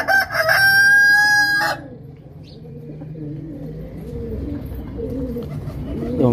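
A rooster crows loudly up close, one long call, followed by a mix of clucking hens and soft cooing pigeons in the background.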